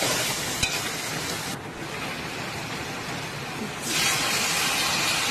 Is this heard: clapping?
no